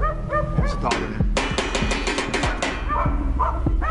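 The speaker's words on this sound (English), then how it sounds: "There's a dog in there." Several dogs bark and yip inside a house, overlapping in dense, rapid volleys with some whimpering, loud and close throughout.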